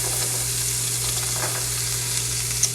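Cubed potatoes sizzle in hot oil in a pan, a steady close crackling hiss over a low electrical hum, with no voices.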